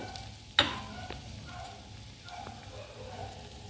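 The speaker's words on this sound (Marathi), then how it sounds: "आता एक एक करून आपण हे रोल तेलात सोडूया।" Besan-coated spinach rolls fry in hot oil with a soft, steady sizzle, broken by one sharp clink near the start and a few light ticks.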